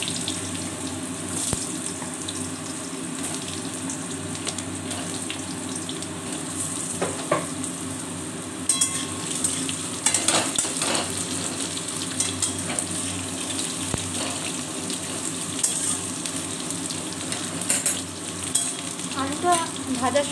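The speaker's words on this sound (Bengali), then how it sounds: "ভাজার সময় আমি একটু নুন দিয়ে ভাজব," Potatoes fry steadily in hot oil in a pan for an aloo paneer curry with salt added, giving a continuous close sizzle with occasional stirring scrapes and a few brief clinks.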